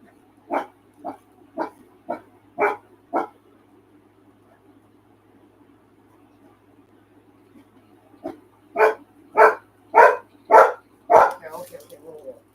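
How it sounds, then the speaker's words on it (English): A dog barks in two bursts: six sharp, evenly spaced barks, a pause, then a louder run of six barks close by. "What are you barking at?"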